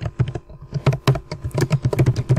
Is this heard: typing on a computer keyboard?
yes